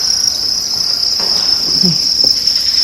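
Crickets on a cricket farm during egg collection, a loud continuous high chirping drone that never breaks, with a couple of faint handling knocks underneath.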